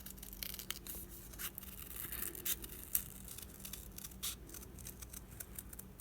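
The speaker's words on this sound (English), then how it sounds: "I'm going to cut there." Scissors snip through folded paper in short, quiet cuts with faint crinkling and a few sharper clicks, close by with no talking.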